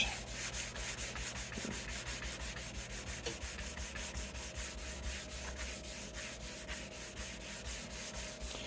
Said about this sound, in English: They work great for like burnishing rosewood, or any wood for that matter.